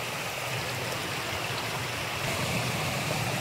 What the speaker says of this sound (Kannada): ಅಷ್ಟು ಚೆನ್ನಾಗಿ ನೀರು ಹರಿತಾ ಇದೆ ಮಳೆ ಬಂದಾಗ.